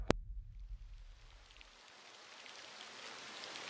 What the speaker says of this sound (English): The air grew heavy with rain.